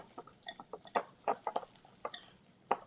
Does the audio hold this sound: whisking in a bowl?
yes